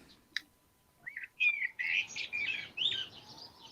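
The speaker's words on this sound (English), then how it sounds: "Oh, more birds." Birds chirp and tweet in a quick series of bright, high calls, with a single sharp note first and then a denser run of overlapping chirps, fairly close and clear over a quiet background.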